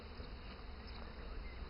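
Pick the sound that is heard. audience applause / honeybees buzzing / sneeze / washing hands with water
honeybees buzzing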